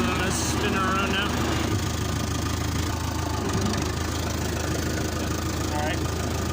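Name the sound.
Fordson Diesel Major tractor engine running while turning around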